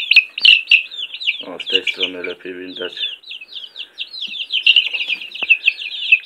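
A backyard flock of hens, including a young incubator-hatched bird with slightly feathered legs, clucking and chirping continuously up close, with a person speaking briefly partway through.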